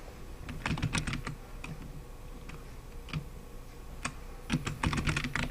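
Someone types a name on a computer keyboard while working in Adobe Premiere Pro CC 2017, with short bursts of crisp, close key clicks separated by pauses.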